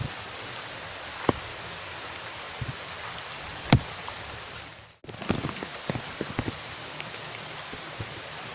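Steady rain patters outdoors while someone walks through it, with a continuous hiss broken by occasional louder drops and knocks, and a brief dip midway.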